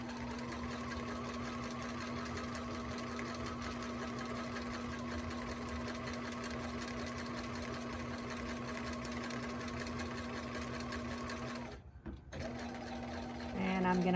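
A sewing machine stitches a T-shirt pillow in a steady, continuous hum, running evenly for most of the stretch before a brief stop and restart near the end.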